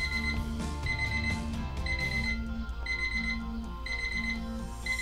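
An alarm clock rings in a steady repeating pattern of bright electronic beeps over a low musical bed, the signal of a new morning starting.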